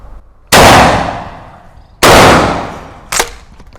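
Three loud shotgun blasts from a Hunt Group MH 12 pump shotgun, fired at a range of 25 metres. The first two ring out about one and a half seconds apart, and a sharper, shorter crack follows.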